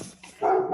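A dog gives a single short bark, loud and close, after a moment of quiet.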